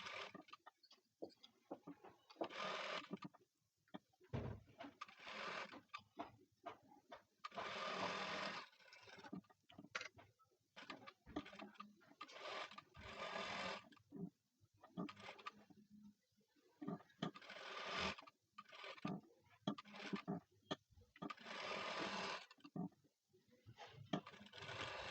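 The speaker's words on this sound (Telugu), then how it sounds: "ఈ లాస్ట్ స్టిచ్ అనేది కంప్లీట్ చేస్తున్నా" A sewing machine stitches a blouse in short, uneven runs with brief pauses between them, fairly faint and close by, with no talking.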